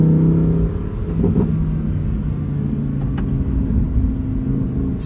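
A 2023 Lamborghini Huracan Tecnica engine accelerates through its 7-speed dual-clutch gearbox, a loud, steady rumbling drone heard from inside the car with no talk over it.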